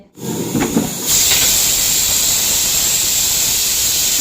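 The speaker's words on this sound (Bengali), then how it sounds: "মাছগুলো দিয়েছি এয়ার ফ্রায়ারে ওগুলো হচ্ছে ভাজা" A steady, loud hiss like hot air blowing from an air fryer cooking fish, starting after a brief rustle and holding constant with a high whine on top.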